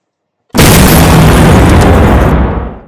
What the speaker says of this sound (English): Explosive bullets.